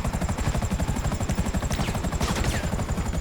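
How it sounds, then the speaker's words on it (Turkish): Gunfire in GTA 5 during a heist, a rapid steady rattle of shots blended with the thumping rotor of a helicopter, loud and continuous throughout. "Bana biri ateş ediyor ama."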